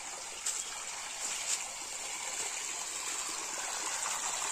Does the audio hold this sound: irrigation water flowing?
yes